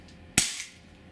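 A single sharp pop from a Walther PPS 4.5mm CO2 blowback airgun, a loud crack with a brief metallic slide snap and short tail, standing alone against quiet room tone.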